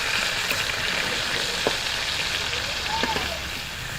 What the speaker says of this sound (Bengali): দেখুন বন্ধুরা, কাঁকড়াগুলো আমি কিভাবে ভেজে নিচ্ছি